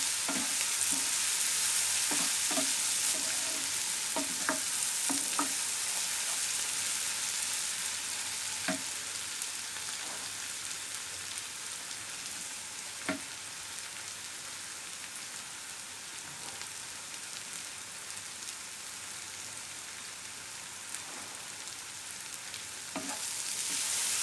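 Hilsa fish bharta is stirred and fried in a pan, giving a steady close sizzle broken by scattered scraping taps from the spatula, with no talking.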